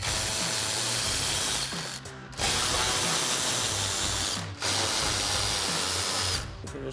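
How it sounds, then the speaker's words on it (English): Power tool with an 8 mm socket backing out fender liner screws on a Jeep Wrangler JL, a loud, steady whirring drive in three long bursts separated by brief pauses. "again we're going to use our 8 millimeter socket to take these screws out"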